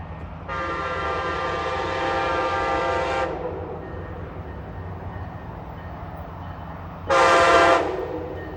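Amtrak Silver Meteor passenger train approaching slowly, its horn sounding in two loud blasts, a long one of about three seconds and a short one later, over a steady low rumble of the train drawing near.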